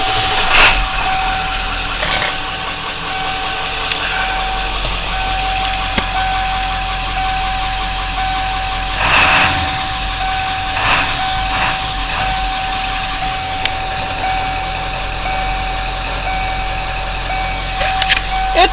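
A Ford Powerstroke diesel truck engine, started after a short glow plug cycle on a hot day, settles into a loud, steady idle with a constant low rumble and regular ticking clatter, and a few brief louder revs and knocks over it.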